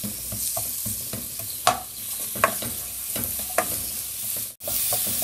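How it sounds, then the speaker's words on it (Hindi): White onion and the white part of green onion sizzle in a hot pan, a steady frying hiss broken by a few sharp scrapes and clinks of stirring, close and alone. "ये हमारा वाइट प्याज है, हरा प्याज जो उसका वाइट पार्ट, ये हमने इसमें डाल दिया। ठीक है, इसको थोड़ा सा हम कुक करते हैं।"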